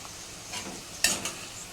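Ginger-garlic paste with asafoetida, turmeric and masala roasting in oil for a mixed vegetable bhaji, a soft sizzle broken by two quick sharp stirring scrapes near the middle.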